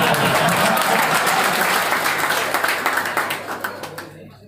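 Loud audience applause at a seminar fills the space, then thins out to a few scattered claps before fading to quiet.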